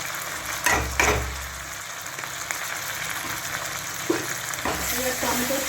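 Tomato sauce going into a hot frying pan, a steady close sizzle with a few sharper splashes and pan knocks near 0.7, 1 and 4.1 s, continuous throughout with no talk.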